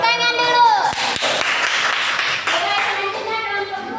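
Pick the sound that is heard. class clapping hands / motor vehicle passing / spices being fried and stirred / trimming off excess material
class clapping hands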